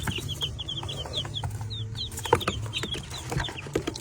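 Young chicks cheeping in a steady run of high, quick chirps close by, with low background rumble and an occasional louder knock or thump.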